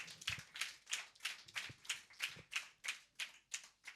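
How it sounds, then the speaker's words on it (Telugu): Steady rhythmic hand clapping from a church congregation at a Good Friday service, about a dozen even claps spaced roughly a third of a second apart, moderately close and with no voices over them. "చప్పట్లు కొడదామా?"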